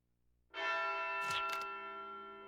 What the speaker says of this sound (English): Those are funeral chimes